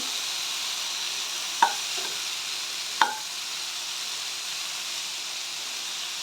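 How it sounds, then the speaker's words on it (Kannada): Chopped onion flowers frying in a pan, with a steady low sizzle throughout and two sharp clacks of a spoon against the pan while stirring. "ಈರುಳ್ಳಿ ಇವನ್ನ ಹಾಕಿದ ನಂತರ ಕ್ಲೀನಾಗಿ ಇದನ್ನು ಮಿಕ್ಸ್ ಮಾಡ್ಕೋಬೇಕು"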